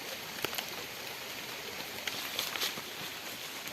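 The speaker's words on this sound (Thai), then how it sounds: "ท่ามกลางฝนโปรย" Light rain falls in a forest, a steady soft hiss with a few scattered louder drops or taps, fairly faint and with no voices.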